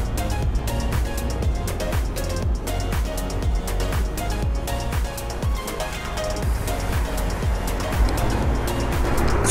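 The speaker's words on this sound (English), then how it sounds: "we're gonna wait for a few of these cars to go by" Traffic rolling along a busy Las Vegas street near Flamingo Avenue, continuous road noise with repeated whooshes of cars passing close, dense and fairly loud, no speech.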